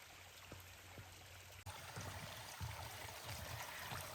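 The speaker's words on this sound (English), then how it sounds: "This waterfall is really pretty when it has a lot more water in it coming down this solid rock." A small waterfall runs down solid rock beside a forest trail in Dosewallips State Park, giving a steady, soft trickling wash with faint splashes and no voices.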